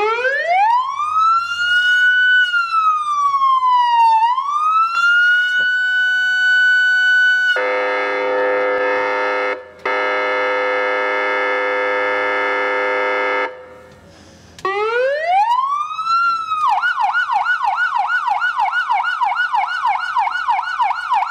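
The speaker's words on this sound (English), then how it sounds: "Lights flashing, the siren going, and the Kojak light up on top." Police-style siren on a Gran Torino, loud and close, sweeping up and down in wails, switching to a steady harsh tone, then back to wails and a fast rapid yelp.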